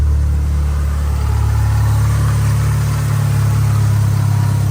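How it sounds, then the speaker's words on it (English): A 2G Mitsubishi Eclipse GSX engine idles close by, a loud, steady low rumble that holds an even drone throughout with no revving. "All right, so we're idling now."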